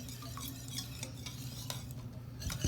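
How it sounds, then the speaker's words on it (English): Brownie batter gets stirred in a large mixing bowl with a soft, continuous scraping and swishing, punctuated by light spoon taps against the bowl, quiet and close with no voices. "mix all ingredients thoroughly"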